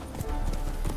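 Roach the horse's hooves clip-clop in a quick galloping rhythm across the ground in The Witcher 3, several close, distinct hoofbeats in about a second with no speech.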